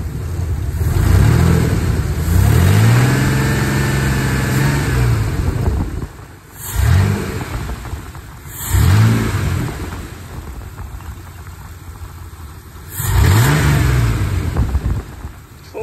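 A Chevrolet squarebody truck engine revs up repeatedly, each loud rising roar falling back to a rough idle, with several pulls spread over the stretch, close and dominant.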